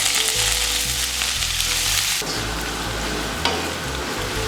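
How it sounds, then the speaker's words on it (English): Onions hit hot oil in a pan for Nigerian egg sauce, giving a loud, steady sizzle that jumps in intensity partway through, with a sharp scrape or clatter near the end and no voices. "So our oil has been heating up and we'll be adding the onions."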